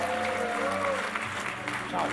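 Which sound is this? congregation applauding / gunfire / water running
congregation applauding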